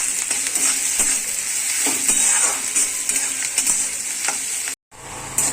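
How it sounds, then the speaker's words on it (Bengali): Onions fry in oil in a kadai. A loud, steady sizzle runs throughout with light clinks and stirring scrapes, then cuts to a brief silence near the end before resuming. "কড়াতে পেঁয়াজগুলো দিয়ে দিয়েছি"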